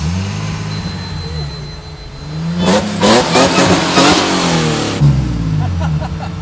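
A supercharged Toyota Hilux engine revs hard, climbing from a steady idle into several loud, close bursts of throttle before settling back to a rumbling idle.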